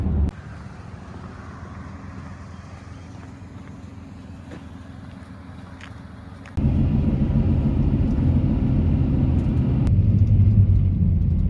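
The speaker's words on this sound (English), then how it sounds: "Okay, so I'm going to drive up and I'll see you at the trailhead." A camper van drives up a mountain road toward a trailhead in Shenandoah National Park, Virginia, in icy conditions; a steady low engine and road rumble with wind noise runs throughout, growing louder and heavier midway.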